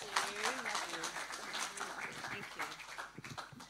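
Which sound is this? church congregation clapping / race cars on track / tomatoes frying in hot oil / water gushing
church congregation clapping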